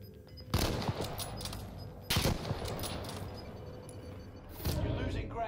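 Sniper rifle fire in the video game Call of Duty: Warzone, a 2v2 match, rings out as three loud sharp shots spaced a couple of seconds apart over a busy background of game sounds.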